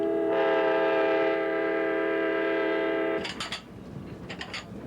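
An Amtrak train hauling a private railcar sounds a long sustained horn blast, then rolls on with rumbling rail noise and clanks as the horn cuts off.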